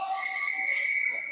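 A referee's whistle at a 12U youth ice hockey game, one sustained shrill blast lasting over a second, clear and fairly close against faint rink background.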